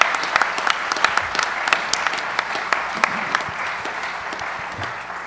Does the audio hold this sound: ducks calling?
no